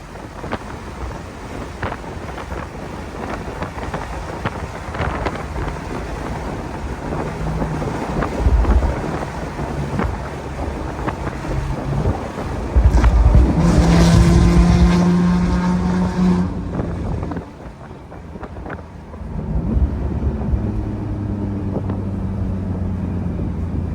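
A modified 2014 Porsche 911 Turbo S making 700 horsepower accelerates hard, heard from inside the car as a rising engine roar under heavy wind and road noise, surging loudest near the middle before easing and building again.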